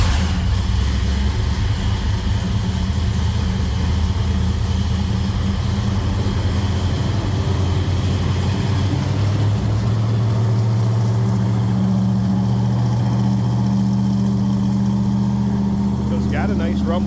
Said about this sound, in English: let's just go ahead and fire it up. I may let it run so a little bit so you can hear it run